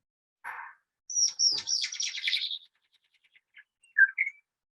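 A whitehead calls in a New Zealand forest, starting with a short chirp, then a rapid bright trill, then a few scattered high notes ending in two clear chirps. The sound is close and stands alone.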